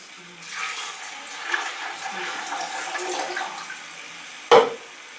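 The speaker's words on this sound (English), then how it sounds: "Then what I do is I add in a little bit of water." Water pours steadily for several seconds into a protein shake mix in a kitchen, a soft continuous splashing stream that ends with a brief clunk.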